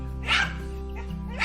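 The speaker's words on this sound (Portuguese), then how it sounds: "Os cães estão doidos, latindo" Dogs bark at a small opossum on a nature trail in Piauí, Brazil. Two short barks ring out about a second apart over steady low background hum, with no talk.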